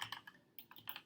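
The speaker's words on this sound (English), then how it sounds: "I'm sorry about the click noise because that is my new keyboard." Quick, light clicking from typing on a mechanical computer keyboard, about a dozen crisp keystrokes in irregular bursts, close but quiet, with no talking.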